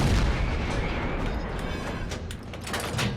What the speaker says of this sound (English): I'm going to get 3 shots off here on this guy